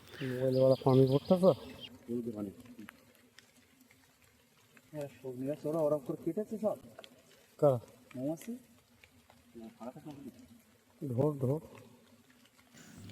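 A low, steady buzz of small bees around a hive inside a tree hums throughout as a person speaks in bursts over it.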